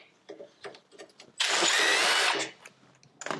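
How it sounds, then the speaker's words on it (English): A power tool whirs for about a second to back out small screws from the steel front crash bar of a vintage DAP kart, amid quieter taps and handling noises close by, with no talk. "So to get your front bar off, you've got to remove these little screws"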